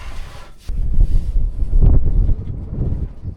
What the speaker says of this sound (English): It's getting super windy outside.